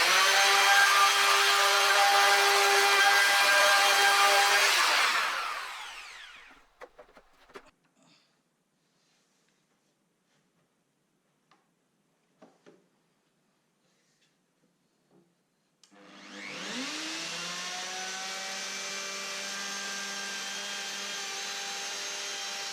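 A power saw rips through a wooden panel guided along a clamped straight edge: a loud, steady whine for about five seconds, then near silence with a few clicks, then the motor spins up again and holds a sustained roar.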